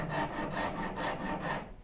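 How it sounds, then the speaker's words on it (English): A rasp is worked back and forth on wood of a Shaker Enfield cabinet, giving four rhythmic rough strokes, close and fairly soft, with no voices. "So just get the rasp out and go. Rasp it down to the line."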